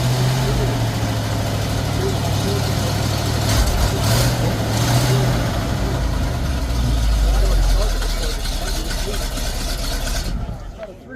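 An old Ford F600 truck engine cranks and catches, then settles into a rough, low idle at close range while people talk over it, cutting off near the end.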